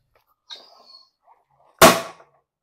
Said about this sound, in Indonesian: selanjutnya kita menyalakan mercon tikus store dimasukkan dalam galon